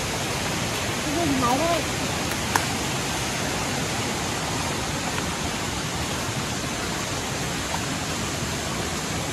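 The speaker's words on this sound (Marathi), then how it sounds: "हा बघा माऊलींचा हा वहाळ आहे." A forest stream in the Konkan rushes steadily, a dense, even wash of flowing water close by, with a brief voice near the start.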